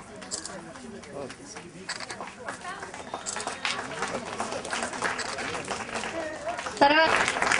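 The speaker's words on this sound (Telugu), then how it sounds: "క్లాప్స్ కొట్టండి అమ్మా." An audience at a prize-giving event applauds in a steady, moderate patter of many hands that builds slightly toward the end, with a voice talking over it.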